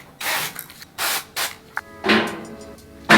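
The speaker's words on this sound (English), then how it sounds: "I'm going to spray it with some olive oil." Olive oil spray hisses onto slices of protein bread in a home kitchen, several short close bursts in a row with brief pauses between them.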